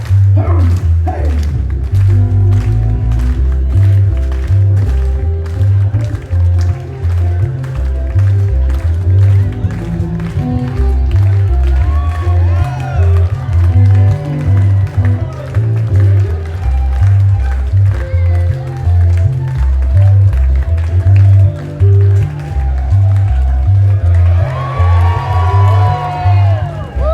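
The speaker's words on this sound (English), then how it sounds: "I want everybody to clap. Keep clapping until I get all the way to the top." A luau show audience in Honolulu claps steadily along to loud, bass-heavy drumming music, with whoops and cheers rising near the end.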